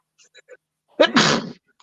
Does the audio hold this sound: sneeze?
yes